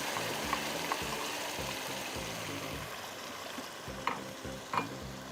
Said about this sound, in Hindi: give it a good mix